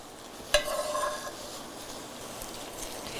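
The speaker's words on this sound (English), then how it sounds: "one ladle at a time, stirring." A sharp clink of a ladle, then a soft wet swish of stirring as broth goes into chicken pot pie filling, over a steady low hiss; close and fairly quiet.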